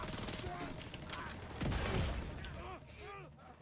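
Enemy grenadiers fire in a video game: faint, scattered gunshot bursts and a sharp crack-like clatter sit low in the mix, with a voice-like sound present alongside.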